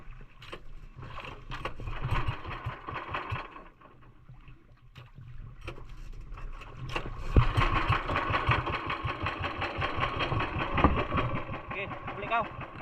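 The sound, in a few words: engine started and running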